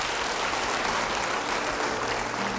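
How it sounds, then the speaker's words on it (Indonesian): Steady applause from a large church congregation, dense and continuous throughout, with no speech over it. "Beri tepuk tangan bagi dia."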